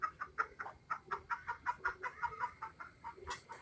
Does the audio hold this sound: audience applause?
no